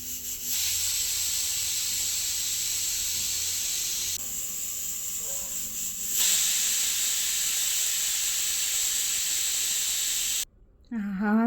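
A pressure cooker cooking jeera rice vents steam in a loud, continuous hiss that shifts in strength a couple of times, then cuts out briefly before a short rising whistle.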